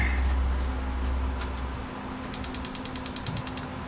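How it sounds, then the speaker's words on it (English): A camper cooktop knob with a built-in igniter on a 2023 Hideout 186SS travel trailer, a rapid series of sharp ticking clicks from the spark igniter, close and crisp over a steady low hum. "Igniter is in the knob. When you press it in, it will be igniting."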